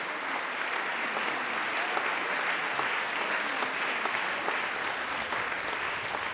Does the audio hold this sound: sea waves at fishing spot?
no